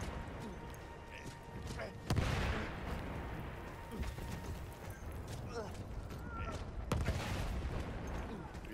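Artillery shells burst in the video game Battlefield 1 amid steady battlefield rumble and scattered gunfire, with two sharp, loud impacts standing out several seconds apart while people talk throughout.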